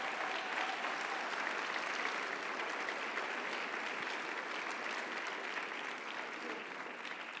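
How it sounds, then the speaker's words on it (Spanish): A church congregation at a Sunday sermon applauds steadily, a thick, continuous wash of clapping from many hands that holds at an even level and eases slightly toward the end. "Dale el aplauso al Señor."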